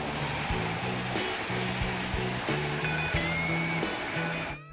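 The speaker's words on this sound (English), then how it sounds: "we do that by opening a valve in the front of the firebox from the outside, and we'll usually blow off anywhere from 75 to 100 gallons of water at a time" A steam locomotive's firebox valve blows off water in a loud, continuous rushing hiss, steady and close, with faint rhythmic knocks and a rising whistle-like tone underneath before it cuts off abruptly.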